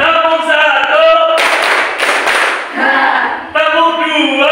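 In a junior high school classroom at SMPN 1 Ayah, a group of students claps together during a counting game, a dense roughly one-second burst of clapping set between a leader's amplified speech.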